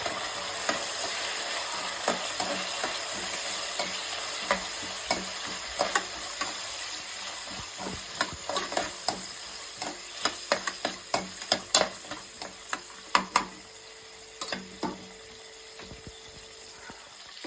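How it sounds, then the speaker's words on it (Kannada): Peas and sautéed onions for a vegetable pulav sizzle in a pan while a spatula stirs them. Steady frying hiss is punctuated by sharp scraping clicks that grow more frequent, with no talking. "ಇವಾಗ ಬಟಾಣಿ ಹಾಕ್ಕೊಳ್ತಾ ಇದ್ದೀನಿ. ಬಟಾಣಿ 1 ನಿಮಿಷ ಆಡಿಸ್ಕೊಳ್ಳೋಣ ಜೊತೆ."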